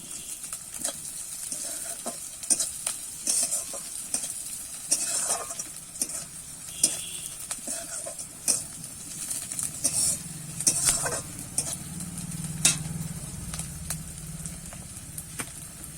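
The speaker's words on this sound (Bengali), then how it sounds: "এবারে আবার একটু নাড়িয়ে চাড়িয়ে ভেজে নেব" Chopped green chilies stir-fried in a pan for tomato paratha: steady hissing sizzle with frequent sharp scrapes and taps of the spatula, ending in a fuller, louder frying sound.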